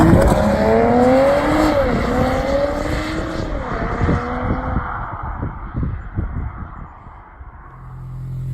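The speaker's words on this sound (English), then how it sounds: "Can I just say that I'm really jealous of the turbo noise from this?" A BMW Z4 M40i turbocharged engine revs through rising harmonic sweeps with turbo whine, then settles and fades, close and loud with no talking.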